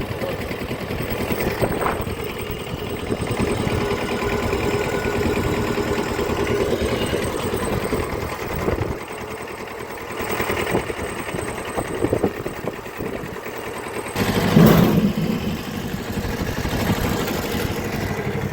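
A walk-behind tractor pulling a potato planter runs steadily nearby with a continuous buzzing engine drone that dips briefly midway and swells again near the end.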